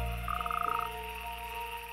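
Frogs croaking at a pond during the breeding season, a rapid pulsing trill rising briefly over a dense, steady chorus of calls.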